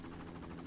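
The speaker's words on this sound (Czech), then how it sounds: "Tak, to je ten vrtulník." A helicopter in the video game Far Cry gives off a steady, close, droning rotor and engine hum that holds evenly through a brief moment with no pauses.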